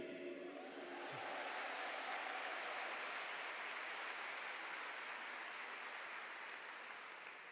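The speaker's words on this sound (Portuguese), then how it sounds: "Se você gostar dessa boa notícia, você vai aplaudir." An audience at a Marian congress breaks into sustained applause, a dense wash of clapping that swells after the first second and holds steady without pause.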